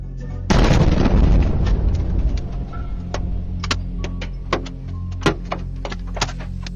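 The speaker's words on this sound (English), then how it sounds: "the explosion shook the ground and shattered windows all around" A single loud, deep explosion, strong enough to shake the ground and shatter windows, booms and rumbles for a couple of seconds, followed by scattered sharp cracks and clatters against a steady low hum.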